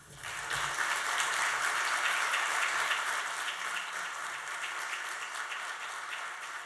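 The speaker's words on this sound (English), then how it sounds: "let's have a round of applause" An audience at an event in Bangladesh breaks into applause, rising quickly and holding as a dense, even wash of clapping for several seconds.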